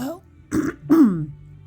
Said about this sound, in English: Let me just clear my throat.